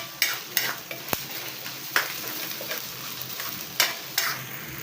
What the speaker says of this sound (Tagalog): Saute lang natin ng saute hanggang makaramelize